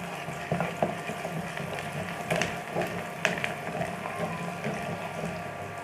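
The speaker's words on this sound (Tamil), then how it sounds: "இந்த தேங்காய், சோம்பு, மிளகை வந்து ஒரு கோர்ஸாக பேஸ்ட் மாதிரி அரைச்சி எடுத்துக்கலாம்." A kitchen grinder works coconut, fennel and pepper into a coarse paste, giving a busy mechanical churning with scattered rattling clicks and knocks, close and steady throughout.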